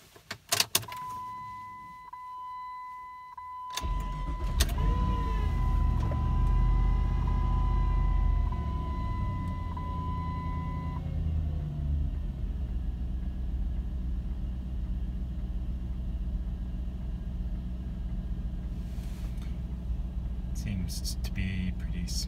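A 2001 Jeep Grand Cherokee 4.7L V8 on a cool morning cranks briefly and catches, then settles into a steady, smooth idle with a loud, close low rumble. A faint tone and a few light clicks can be heard before it starts.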